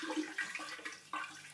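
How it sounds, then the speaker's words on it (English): Water swirled in a container to dissolve sugar for kombucha, a continuous watery slosh with uneven surges, close and moderately quiet, with no voices. "so we're going to dissolve our sugar in. I swirl"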